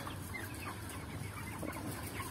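Many chickens cluck and murmur continuously inside a large 12 by 90 meter poultry house cooled by five blowers, a dense flock chatter over a steady fan-like background hum.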